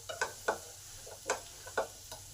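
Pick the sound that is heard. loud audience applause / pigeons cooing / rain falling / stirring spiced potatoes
stirring spiced potatoes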